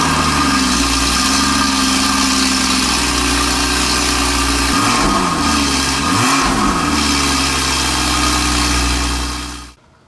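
A Porsche Boxster with its factory exhaust idles steadily after a cold start, a loud, close engine drone with a few brief rises in revs near the middle before it cuts off at the end.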